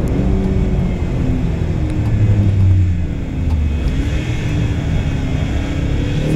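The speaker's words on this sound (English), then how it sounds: "560 horsepower from a turbocharged V8." A BMW X6M's 560-horsepower turbocharged V8 drones steadily on the Circuit of the Americas race track, a loud, close engine note that rises and falls slightly as the car accelerates, with no talking over it.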